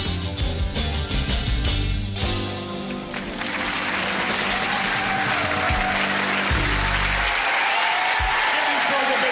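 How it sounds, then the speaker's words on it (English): A studio audience at a 1994 comedy variety show claps as music winds down, the band's tones fading while the dense round of applause continues and swells at the end. "Giving for the big round of applause."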